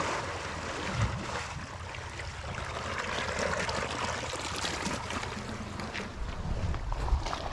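A dolphin splashes and churns water close by, a continuous rushing slosh with a few heavier surges, alone without talk.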